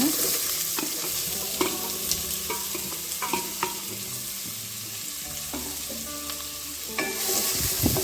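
Urad dal, chana dal, curry leaves and onion frying and being stirred in a pan for brinjal gravy, a steady close sizzle with spoon scrapes and clinks, no talking.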